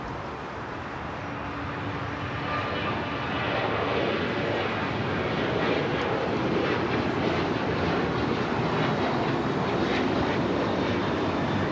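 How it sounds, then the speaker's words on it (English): An American Airlines Boeing 737-800 at Los Angeles airport takes off, its engine roar broad and steady, building slightly in loudness and holding strong through the whole stretch with some wind buffeting. "1446 taking off to Columbus on the 737-800"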